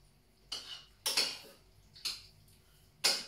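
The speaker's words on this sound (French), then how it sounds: "je suis toujours à remuer avec ma spatule" A spatula stirs a cauliflower and tuna gratin mixture in a pan, making four distinct scraping clinks spaced about a second apart against a quiet background.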